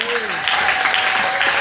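A church congregation claps together during a Sunday sermon, a dense, continuous patter of hands with a sustained voice tone running over it.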